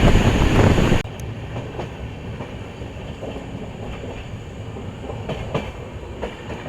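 The 12079 KSR Bengaluru to SSS Hubballi Jan Shatabdi Express rolling past, a loud rumble that drops after the first second into a steady clatter of wagons with rhythmic clickety-clack and occasional wheel squeals.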